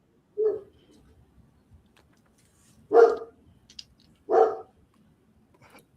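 A dog barks in single loud, sharp woofs, three main barks spaced a couple of seconds apart with a fainter yip between, fairly close and otherwise quiet.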